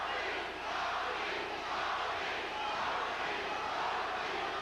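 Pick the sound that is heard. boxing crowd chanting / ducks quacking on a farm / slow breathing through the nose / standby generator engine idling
boxing crowd chanting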